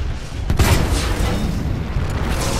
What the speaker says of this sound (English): Mortar titans all around your perimeter.